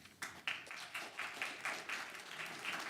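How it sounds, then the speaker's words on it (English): A small crowd claps at a county council meeting after a resident's public comment, a short, fairly faint burst of rhythmic applause with no talk over it. "Please hold your applause."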